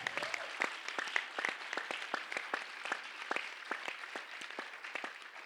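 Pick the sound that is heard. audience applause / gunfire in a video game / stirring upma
audience applause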